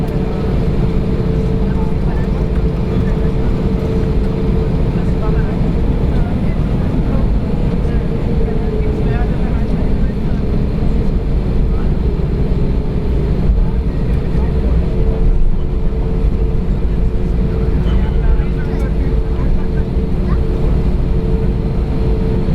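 Inside the cabin of an SAS Airbus A320neo taxiing toward the runway, a steady low engine rumble and airflow hum carry on unbroken and fairly loud, with no talk.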